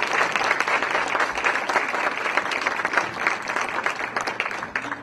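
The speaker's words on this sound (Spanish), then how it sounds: "Un aplauso, por favor." An audience at an open-access education talk breaks into sustained applause, a steady dense clatter of many hands that holds strong and tapers slightly near the end.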